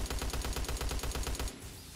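Rapid automatic gunfire from a Call of Duty Black Ops 3 Zombies match on a custom Super Mario Galaxy Ghostly Galaxy map, fired at zombies as a loud, steady burst that stops abruptly after about a second and a half.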